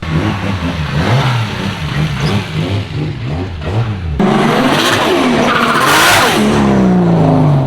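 Nissan R34 Skyline with an RB engine on a road test run, the engine climbing through revs and shifting, then a louder, harsher burst of hard acceleration with rising roaring pitch, close and loud, no talking.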